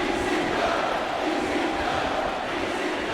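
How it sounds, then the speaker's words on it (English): A capacity arena crowd in a WWE 2K wrestling video game roars steadily, a dense, loud, continuous wash of cheering and shouting with no single voice standing out. "This capacity crowd definitely has their favorite in this contest."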